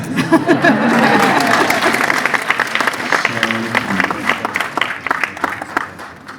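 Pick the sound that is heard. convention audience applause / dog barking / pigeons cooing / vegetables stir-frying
convention audience applause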